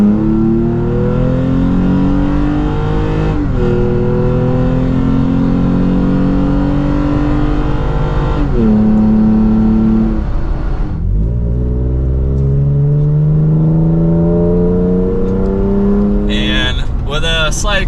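A Toyota Tacoma pickup with an AWE true dual exhaust revs hard at full throttle through several rising gear pulls, loud and close, with a deep throaty exhaust roar and brief dips between shifts.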